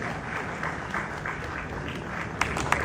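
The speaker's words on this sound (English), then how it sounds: "Please, a round of applause for the anointed village boy." A live audience applauds to welcome Wodemaya, the village boy, at an indoor event: a steady, dense patter of clapping runs throughout, with a few sharper claps standing out near the end.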